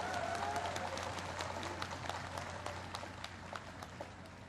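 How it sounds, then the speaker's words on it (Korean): Audience applause at a homecoming address by former president Roh Moo-hyun, a dense continuous clapping from a large crowd that fades gradually over several seconds. "큰 박수로 화답해 주시기 바랍니다"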